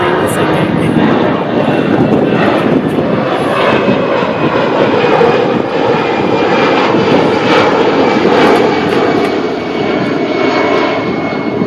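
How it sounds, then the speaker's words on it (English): A propeller airplane drones overhead in a steady, loud, continuous roar throughout, while a person talks quietly beneath it. "there's the airplane"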